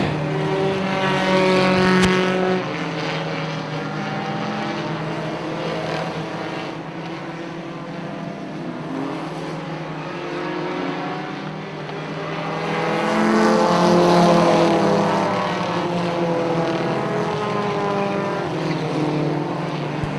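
Pro4 race car engines roar continuously at Punta Gorda Speedway, with pitch rising and falling as cars accelerate past; loud, dense, with a swell of engine noise near the middle.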